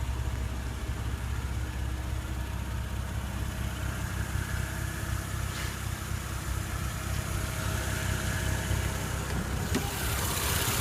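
A 2015 Porsche Cayenne S with a 3.6-liter twin-turbo V6 idles steadily under the open hood, giving a constant close, even engine hum with no break and no voices.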